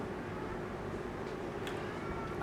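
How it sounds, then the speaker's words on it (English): A cat howls faintly beneath steady background noise, its drawn-out cry rising briefly near the end. "cat immediately starts howling."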